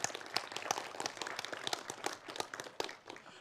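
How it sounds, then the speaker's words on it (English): Audience applause for a speaker at the end of a lightning talk session at a programming conference, a dense patter of many hands clapping in a room, fairly faint and steady throughout. "big round of applause again to Jacek"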